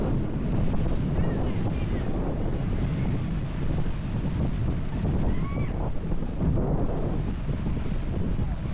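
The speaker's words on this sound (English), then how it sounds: "That wind's ripping" Strong wind buffets the microphone at a Florida boat ramp where a sailboat on its trailer has its sail up, a steady loud roar with rumbling gusts and possible water lapping underneath, no talking.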